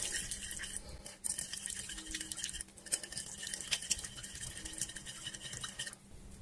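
Food being stirred with wine in a bowl, a soft wet sloshing and scraping that runs on and off throughout at a fairly quiet level.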